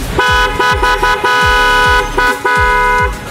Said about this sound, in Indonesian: Klaksonnya kita pakai Mitsuba yang seri Proton original Jepang. Tes hidup.